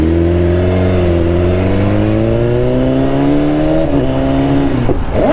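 BMW S1000RR sport motorcycle engine and exhaust heard while riding, a loud continuous drone with steady harmonics that rise and fall as the revs change, a brief dip near the end, with no talk.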